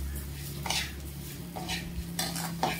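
Coarse broken wheat toasting in a pan over medium heat, with a spoon scraping and stirring through it in a few soft bursts, a low steady hum underneath and no one talking.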